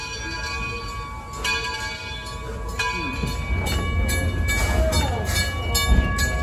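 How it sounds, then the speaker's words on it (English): Heritage train ride at Greenfield Village in Dearborn, Michigan: a steady rumble and clatter of the moving rail cars with a ringing bell and brief horn-like tones on top, loud and continuous from on board. "now we're going on the train ride. Everybody loves a train ride."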